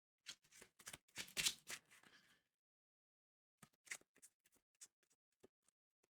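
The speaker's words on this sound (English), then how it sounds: "So we get our deck and we're going to shuffle it" A deck of cards for a horror-themed card game is shuffled close by, a dense flurry of crisp riffling and snapping followed after a pause by scattered light taps and flicks of cards being handled, with no talking.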